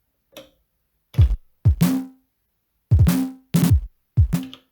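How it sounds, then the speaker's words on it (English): Repeating snare hits programmed on an Elektron Digitone synthesizer: a faint tick followed by five sharp, bright drum strikes with low punchy bodies, some in quick doubled pairs, loud and close with no voices. "So we have the repeating snares as well."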